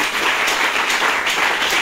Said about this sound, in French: On acclame pour ceux-là qui vont pas témoigner.